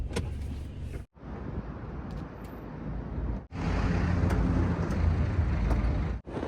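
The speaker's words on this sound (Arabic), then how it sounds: "السيارة ما تبغى تشتغل." A car that won't start: the engine cranks in three harsh, rough bursts separated by brief silences, loud and close, with no voices.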